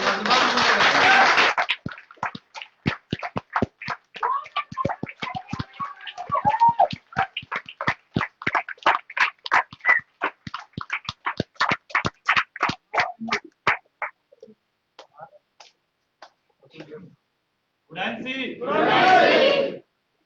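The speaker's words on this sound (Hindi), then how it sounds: "उधर से तालियां बजेगी, इधर से" Audience at a success celebration event in Prayagraj bursts into cheering and rhythmic clapping, loud and close, with sharp claps in steady bursts, a brief pause, then a final loud cheer.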